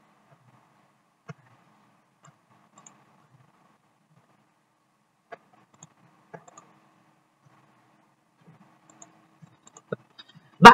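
Sparse, faint clicks land irregularly on an on-screen number pad while a password is entered, and a louder click comes at the end. The background is near silent.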